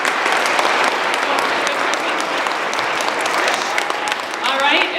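A school audience at a Veterans Day assembly gives a dense, continuous round of applause for student readers, loud and steady throughout.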